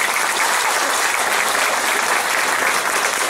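A large crowd at a municipal public event gives sustained, loud, dense applause in honor of the late mayor Juan de los Santos, the clapping steady throughout.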